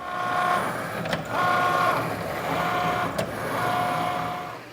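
Cricut Maker cutting corrugated material, its carriage motor whirring in steady back-and-forth passes with a faint whine, briefly interrupted by two sharp clicks as it changes direction; close and continuous, with no talk.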